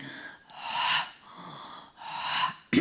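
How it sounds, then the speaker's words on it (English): Open-mouthed breathing drawn through the throat during a Gyrokinesis exercise: two long, rasping, snore-like breaths in a slow rhythm, close and fairly quiet, with no talking. "keep the mouth open and begin to pull in through that snoring passage"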